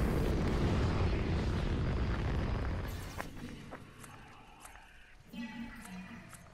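A rocket launches in Fortnite with a loud, broad roar that dominates the first few seconds and then fades into quieter game sounds and a voice.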